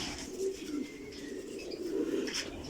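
Pigeons in a breeder setup coo softly in repeated low rolling calls, with a faint chirp or two in the background, fairly quiet and close.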